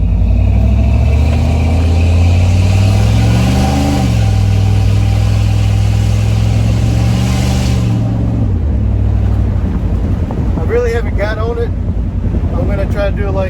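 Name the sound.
1991 GMC truck engine accelerating on asphalt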